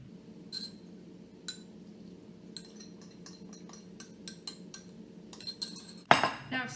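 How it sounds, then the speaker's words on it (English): A spoon stirs wet and dry bread-dough ingredients in a bowl, giving sparse light clinks and scrapes over a low room hum, ending in a louder flurry of clattering. "Now stir it all up."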